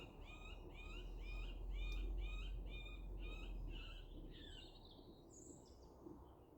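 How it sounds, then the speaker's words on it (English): Repeated chirping bird song phrases, a clear series of rising whistled notes in steady rhythm, moderately near over a low background rumble, with a different call near the end. "you don't recognise that bird song?"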